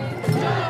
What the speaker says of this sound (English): So New York is chanting, shut it down, shut it down.